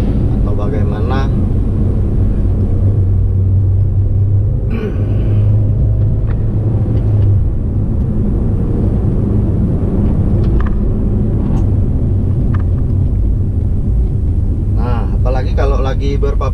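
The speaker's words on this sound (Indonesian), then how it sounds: "Apalagi kalau lagi berpapasan sama mobil besar seperti ini" A large vehicle squeezes past on a narrow road through the old village of Pangkalan Benteng, its engine a steady low rumble close by while people keep talking over it.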